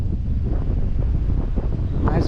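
Steady wind buffets the microphone beside a small pond, a constant low rumbling roar with no letup.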